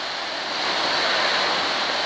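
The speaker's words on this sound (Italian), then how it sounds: "Sentiamo lo scroscio dell'acqua, queste piccole cascate." Water rushing steadily down the small cascades of a village fountain in Cortale, Reana del Rojale, a dense continuous splashing roar heard up close with no voices.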